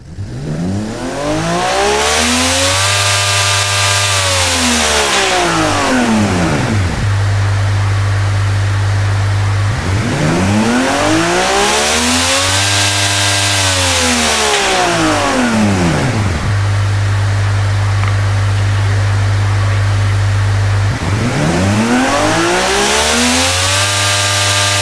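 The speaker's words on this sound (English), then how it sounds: "I think that's literally just the blow-off valves going. Because you can also hear it when it's going down." A simulated inline-six engine in the Automation car-tycoon game revs up and down in three long, repeated sweeps, rising and falling in pitch. Loud, broad hissing rushes from blow-off valves accompany each sweep.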